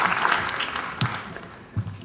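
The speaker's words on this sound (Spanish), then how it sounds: "un aplauso cálido y fuerte" Applause from the audience at a ceremony marking International Data Protection Day, a dense clapping wash that thins out over two seconds, with a couple of low thumps.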